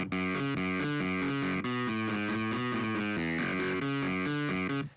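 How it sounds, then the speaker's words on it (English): A distorted electric keyboard with a clavinet-style sound plays a repeating melodic line with a gritty, buzzing tone, steady and loud throughout, with no voices. "put some distortion on it, on your clavichord, clavier sound"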